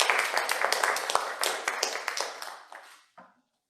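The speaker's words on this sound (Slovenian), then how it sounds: "Pa vas prosim za aplavz vsem prejemnikom." An audience at the 2021 Jesenko awards ceremony claps for the award recipients, brisk full applause that tapers off and fades to silence near the end.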